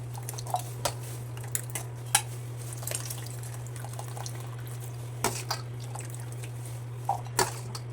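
Boiled green peas draining in a metal sieve, with scattered light clinks and soft drips of water over a steady low hum, close by and fairly quiet.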